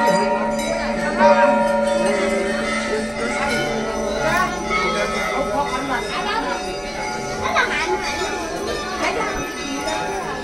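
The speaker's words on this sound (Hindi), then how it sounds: "हमें अभी चितई मंदिर में देखिए कितनी हर जगह घंटियां ही घंटियां।" Temple bells ring at Chitai temple in Almora, Uttarakhand, a dense cluster of metallic chimes overlapping continuously amid crowd chatter and voices of visitors nearby.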